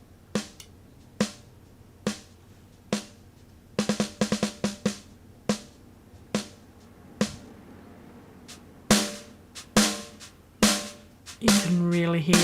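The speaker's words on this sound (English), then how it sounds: "Next one is a snare." A snare drum from Addictive Drums software strikes in sharp, bright hits, first spaced single beats, then quick flams and rolls, heard alone and fairly close with short decays.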